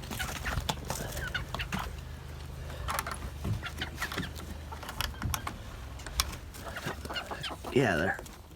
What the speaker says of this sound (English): Get the chickens out of the water, otherwise they'll freeze in there.